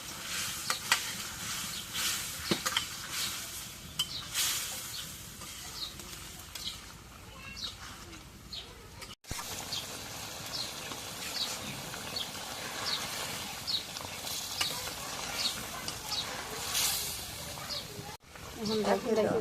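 Fish and spices stirred in a sizzling pan in a home kitchen, with steady frying crackle and scraping strokes throughout, briefly interrupted twice.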